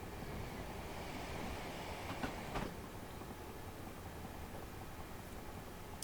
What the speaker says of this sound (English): here's some more London Northwestern Railway Class 350s